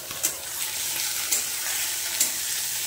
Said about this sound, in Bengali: এবার এটা দিয়ে ভালো করে কষে নিই।